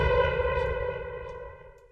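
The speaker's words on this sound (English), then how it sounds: "God with a mountain echo" A voice run through a mountain-echo effect from an Accusonus voice changer plugin, sounding processed and reverberant, with steady harmonic tones that trail off smoothly over two seconds.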